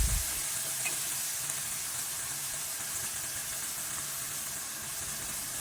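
Tomato dropped into garlic, onion and ginger frying in a pan for Filipino ginisang bagoong, with a steady, close, loud sizzle running throughout and no talking.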